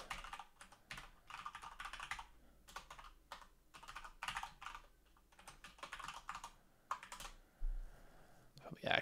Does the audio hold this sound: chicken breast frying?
no